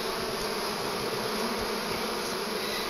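Small honeybees buzz in a dense, steady drone during a hive extraction, a continuous close swarm hum with no one talking.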